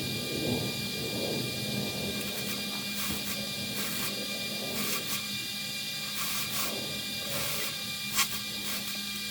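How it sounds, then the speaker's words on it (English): A sewing machine stitches the side seams of women's slacks with a steady mechanical hum and repeated rhythmic bursts of stitching, moderately loud and close, with no talking. "And here I'm stitching the side seams together."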